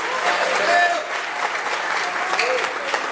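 Sustained applause from a church congregation, a thick, even roar of many hands clapping that fills the space, with voices rising through it here and there.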